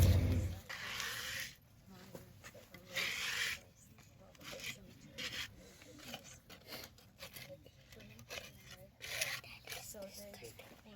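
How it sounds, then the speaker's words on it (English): A plastic scraper is rubbed gently over a headstone to lift debris, making soft, intermittent scraping strokes in short bursts close to the microphone, with quiet speech in between. "Plastic. Gently, we're going to scrape off whatever we can."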